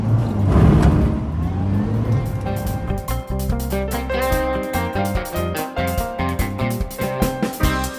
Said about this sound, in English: Caravan.